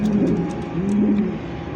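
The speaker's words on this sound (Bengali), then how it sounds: "এই মুহূর্তে দেখতে পাচ্ছেন একজোড়া ইয়েলো কালার সিরাজি কবুতর।" A pair of yellow Siraji pigeons coo steadily up close in a short, continuous burst, with low murmuring calls and no talking.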